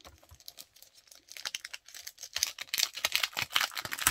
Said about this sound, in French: J'avais acheté ça, donc je vais déballer.